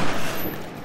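Gunfire in Call of Duty Black Ops, a dense burst of shots in a short, loud stretch with no talking over it.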